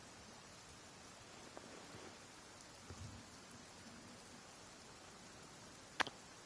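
Steady rain falling in Genshin Impact, a soft, even hiss of drops with a few faint patters and a brief sharp tap near the end, quiet and with no voices.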